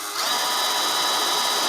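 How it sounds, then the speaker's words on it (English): A power drill boring a small hole in the plastic body of a Team Associated Pro2 SC10 brushless RC truck, a loud, steady high-pitched whine close by that starts abruptly and runs without talk. "So you just drill a little hole just a bit smaller than the rubber retainers."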